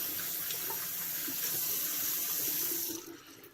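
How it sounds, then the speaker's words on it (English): Tap water runs steadily into a sink as hands are rinsed beneath it, close and continuous, then the flow stops near the end. "Rinse my hands off."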